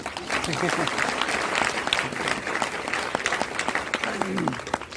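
An audience at a DXN business presentation claps in a sustained round of applause, sharp individual claps standing out in the wash, while voices talk and murmur underneath.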